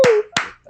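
A few sharp hand claps on a video call, a virtual round of applause for guest Doug Bench: three distinct close claps spaced across less than a second, with a brief tonal whistle-like sweep under the first.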